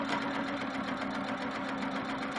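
A sewing machine free-motion stitches a quilt, meandering stipple lines around a floral wreath; a quiet, steady mechanical hum runs evenly throughout with no voices.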